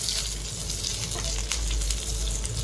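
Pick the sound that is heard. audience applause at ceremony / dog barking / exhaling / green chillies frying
green chillies frying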